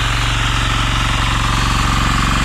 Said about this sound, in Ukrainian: Мотоблок заводиться шикарно.